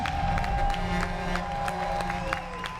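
Audience applause and cheering for a singer at a live show, a steady wash of clapping from a crowd that carries over a faint held musical tone for the whole stretch.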